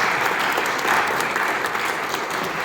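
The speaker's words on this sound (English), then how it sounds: "We'd love for the audience to give our speakers a final round of applause for being here." An audience at a university panel on decentralized science applauds the speakers, a steady, full wash of clapping held at even loudness throughout.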